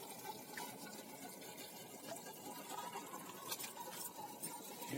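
Mountain stream water near Jogini waterfall in Manali, a quiet, steady rushing and bubbling flow with no voices, continuous throughout.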